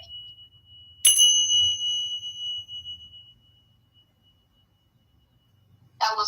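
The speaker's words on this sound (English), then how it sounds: "That was Mom's bell." A hand bell rings once in a quiet bedroom, a sharp bright strike whose tone hangs and fades over about two seconds before silence, with a brief burst of other sound at the very end.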